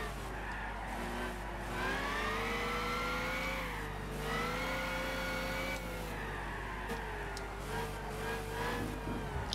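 A race car in Gran Turismo 6, driven in a rain race, its engine revving hard with rising and falling pitch sweeps through gear changes and tires skidding, loud and continuous throughout with no talking.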